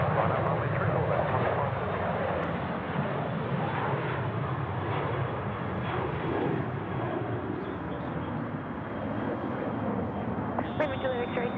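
Steady roar of airliner jet engines on the runway at Sydney Airport, loud and continuous throughout with a broad rumbling wash, while radio talk from air traffic control is faintly present.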